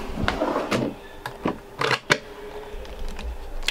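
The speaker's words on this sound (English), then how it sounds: "Here's the drawer." A drawer in a 2021 Dethleffs Pulse I 6811 EB motorhome is worked, giving a few quiet, close sliding clicks and knocks spread over a few seconds in a still interior.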